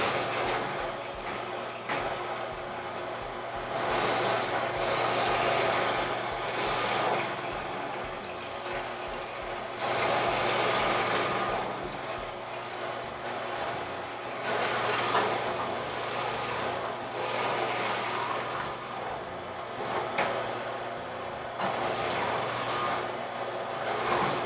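A masticating juicer, a Super Angel 7500 Pro, grinds cucumbers with a steady motor whir. Rhythmic crunching and pulsing surges from the gears and pulp run throughout, with no talk.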